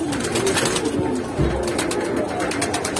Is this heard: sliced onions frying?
no